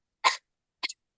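Two short coughs, the first fuller and the second a quick double hack, separated by silence and heard up close.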